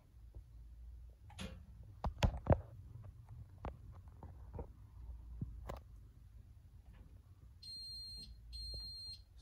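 An Apollo XP95/Xpander house fire alarm system enters pre-alarm: after scattered quiet clicks and knocks in a hushed room, a faint electronic tone pulses on and off twice near the end.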